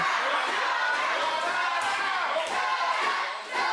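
A wrestling crowd roars and chants at an indoor pro wrestling show, a dense wall of voices that stays loud and sustained before dipping briefly at the end.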